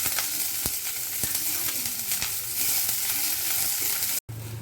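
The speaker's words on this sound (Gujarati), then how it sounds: "હવે ડુંગળીને ફ્રાય કરી લેવાની છે।" Onions frying in a pan with oil, a steady close hiss and crackle with occasional sharp pops and stirring, then a brief cut to a quieter, lower sizzle near the end.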